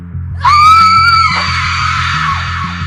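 A woman screams in a Hindi horror story set on a dark, rainy night, one loud, sustained, high shriek that trails off over a low, rhythmic music bed.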